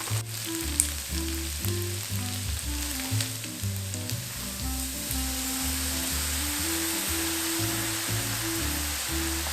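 Mushrooms fry in a pan with low-gluten flour and MOMA barista oat milk, giving a continuous close sizzle with occasional stirring over a soft background melody.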